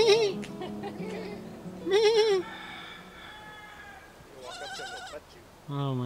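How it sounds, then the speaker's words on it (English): A goat on a South Pacific island bleats loudly and close several times, wavering cries separated by short gaps, with quieter ambient sound between. "cute goat."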